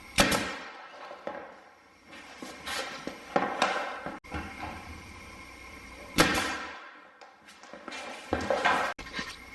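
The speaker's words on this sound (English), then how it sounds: "get them snugged in using the nail gun" A nail gun fastens vinyl plank flooring along the edge of cabinetry in a basement, giving several sharp, separate bangs at irregular intervals, close and fairly loud, with faint handling noise between shots.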